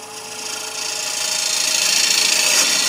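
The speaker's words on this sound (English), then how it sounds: "I'm going to use this square end scraper to get just a little bit" Square end scraper cutting a wood platter spinning on a lathe, a steady bright scraping hiss with a faint motor hum beneath, growing slightly louder over a few seconds, no talk.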